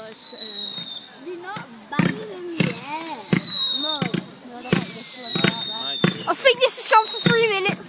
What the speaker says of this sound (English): jump fireworks are coming out of the box